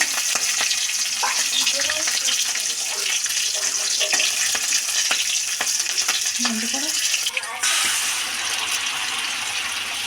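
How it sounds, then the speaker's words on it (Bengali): Green chillies and nigella seeds temper in hot mustard oil in a kadai, giving a loud, continuous sizzle and crackle with brief stirring scrapes and a sudden sharper hiss near the end. "এবার আমি এটা ফোড়ন করে নেব।"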